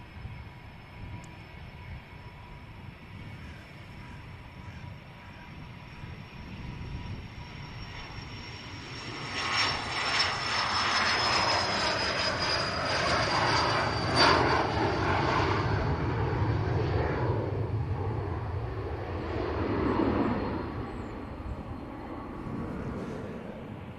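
A business jet takes off at Manchester Airport, its engine roar swelling from a distant whine to a loud, broad rush partway through, then slowly receding, with no voices.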